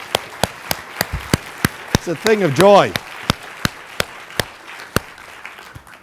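A crowd at a speaking event claps for the Ruderman family, with sharp evenly spaced claps ringing out over a quieter ambience while someone speaks briefly in the middle.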